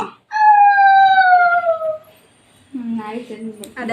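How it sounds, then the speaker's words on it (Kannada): Dog howling at a house, a long, loud, falling wail near the mic, followed by a shorter, wavering whine after a pause. "ನಾಯಿ ಬಡ್ಕೊಂತ"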